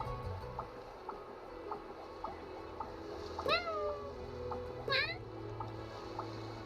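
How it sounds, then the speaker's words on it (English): Two short cat meows from the Genshin Impact video game ring out a second or so apart, clear and fairly close, over quiet background game music with soft rhythmic plucks. "I'm just here for the cat"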